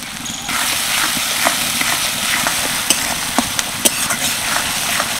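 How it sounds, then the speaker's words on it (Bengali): Chopped onions frying with salt in a pan for chickpea ghugni give a loud, dense sizzle, with a few sharp scrapes of a stirring utensil cutting through. "পেঁয়াজটাকে ভালো করে ভেজে নেব"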